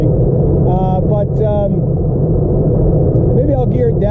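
A manual car borrowed from a brother hums and rumbles steadily from inside the cabin while someone talks over the drone of the engine.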